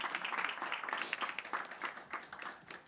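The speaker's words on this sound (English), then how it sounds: "Can we have another round of applause to all of our speakers?" Audience applause in a conference hall at a tourism investment summit, a steady wash of many hands clapping at moderate distance, continuous and fairly faint for the whole stretch.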